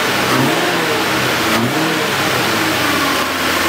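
A cold 1968 Ford F350 truck engine with the muffler deleted revs repeatedly at close range, a loud steady roar rising and falling in pitch with no voices.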